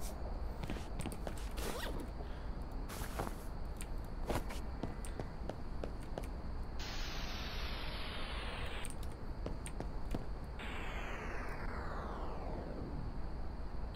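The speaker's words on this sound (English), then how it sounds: "Can you spray paint the cars?" A spray paint can hisses onto cars in a video game, two long bursts that fade out, mixed with soft steps and clicks and no voices.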